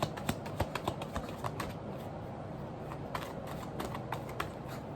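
Tarot cards shuffled by hand in quick, uneven bursts of crisp slaps and riffles, close and fairly faint, with short pauses between flurries.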